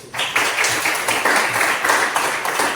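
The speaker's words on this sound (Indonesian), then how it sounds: "Oke, tepuk tangan dulu." Classroom applause during a mathematics lesson, many hands clapping at once in a dense, steady burst that starts abruptly and carries on loudly without talk.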